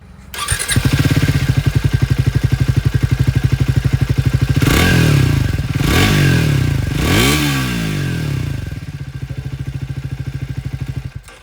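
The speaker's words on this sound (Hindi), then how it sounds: "सुन लीजिए पहले नई वाली इंजन की आवाज़।" A new 350cc Triumph Speed 400 idles with a steady, even exhaust thump, then takes three sharp throttle blips that rise and fall before it settles back to idle. The motorcycle is close and loud, and nobody talks.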